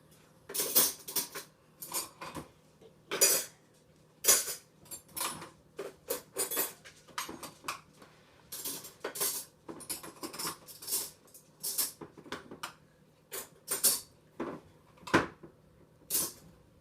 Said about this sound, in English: I make sure everything's out of there, and then I shut the drawer, I replace the silverware container.